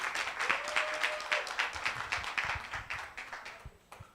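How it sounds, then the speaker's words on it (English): Audience applause at a campaign event on no violence against women and children, a steady wash of many hands clapping for about four seconds, fading slightly toward the end. "I think you should give yourselves a round of applause."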